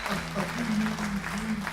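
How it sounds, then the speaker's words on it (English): Brief applause from a workshop audience at an early-morning blues songwriting session, scattered clapping under a steady low hum, fairly soft and short. "Big round of applause for everybody getting up early."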